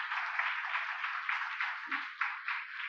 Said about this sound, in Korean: 일어나실 때 박수로 안녕해 주시기 바랍니다